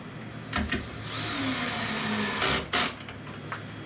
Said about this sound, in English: get the drill out, use the T20, get the clutch up a little bit, and then we'll just put these screws in